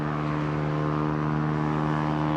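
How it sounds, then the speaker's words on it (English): A loud motorbike roars steadily close by at an airport-side road, its droning engine note sustained and unbroken throughout, with no talk over it. "Your bike sounds ridiculous"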